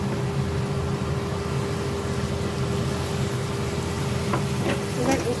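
Ginger and green chilli paste sautés in a pan for jhal sabu, giving a steady close sizzle over a constant low hum, with a few scraping stirs near the end.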